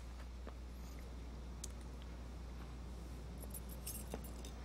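Keys tossed away in the video game Life is Strange, a few faint, light metallic jingles and clinks scattered over a low steady hum, with no speech.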